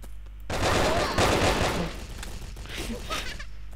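Automatic machine gun fire in the blocky online shooter Brick Force, a dense burst of rapid shots starting abruptly and sustained at close range, with in-game noise continuing underneath.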